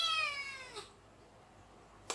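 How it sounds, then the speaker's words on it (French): A small cat meows unhappily after being shut indoors, one long drawn-out wail fading away, followed by a short sharp sound near the end, close and clear in a quiet room. "C'est comme ça toute la journée dès que je l'enferme. Il veut être tout le temps dehors ce petit chat"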